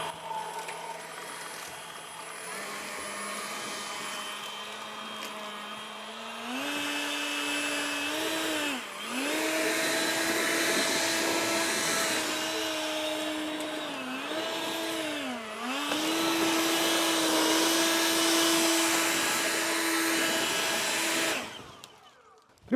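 An EGO Power+ LB7650E battery leaf blower runs for about twenty seconds, a loud close whirring roar whose pitch steps up and dips as power changes, then cuts off abruptly at the end.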